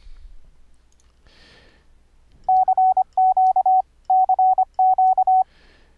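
Sine-wave Morse code beeps from the bipper software oscillator, keyed by MIDI from audio: four loud bursts of short, steady mid-pitched tones in quick rhythmic groups, alone over faint background hiss with soft breaths between.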